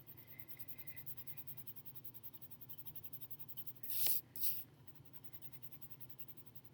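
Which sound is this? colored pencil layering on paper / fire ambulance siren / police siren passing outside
colored pencil layering on paper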